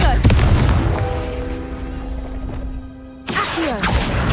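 A Confringo spell blast in the Hogwarts Legacy video game, a loud booming burst that rings out and decays over a few seconds before a second sharp impact hits near the end.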